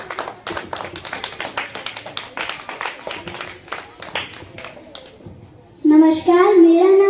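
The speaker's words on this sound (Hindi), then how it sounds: "चलिए जोरदार तालियों के साथ स्वागत करते हैं" An audience claps for a sixth-grade girl at a school World Environment Day event, with scattered claps mixed with children's chatter, then a brief sung tone near the end.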